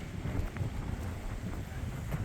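Strong wind buffets the microphone in a continuous low roar, rumbling and gusting without pause.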